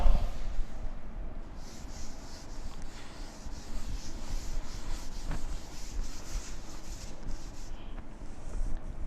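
Writing is rubbed off a board during a maths lesson, a continuous close scrubbing and scraping with steady back-and-forth strokes that runs the whole time without pause.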